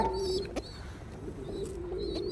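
Flying pigeons in a loft coo softly, with a few short, repeated calls over faint background noise.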